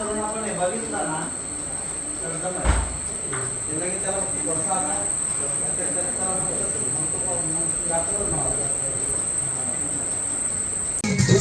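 A steady high-pitched cricket drone runs continuously in the background during a village shoot while people talk over it throughout.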